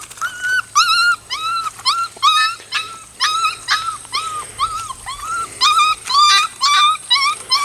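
A puppy whimpers and yips in a rapid series of high, thin cries, close by and repeated steadily with short pauses, no talking.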